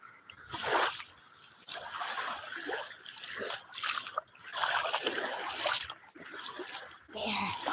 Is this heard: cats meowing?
no